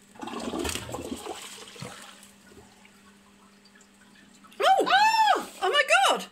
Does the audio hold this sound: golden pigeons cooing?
no